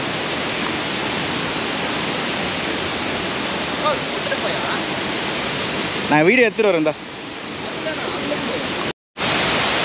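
Thommankuthu waterfall in Thodupuzha, Kerala, roars as a steady broadband rush of falling water close by, with people talking briefly over it and a short dropout near the end.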